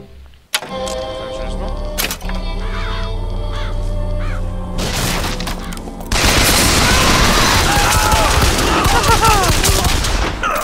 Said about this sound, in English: Press to summon murderous crows.